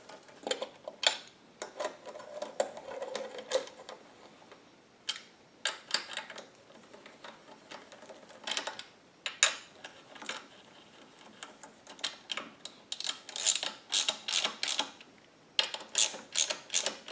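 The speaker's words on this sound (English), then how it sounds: "I'm going to go ahead and start all 4 bolts before I tighten any of them down." A wrench ratchets in repeated quick bursts of clicks while starting the valve cover bolts during a Gidrox 6000 extended run time fuel kit install, close-up with short pauses between runs and no talk.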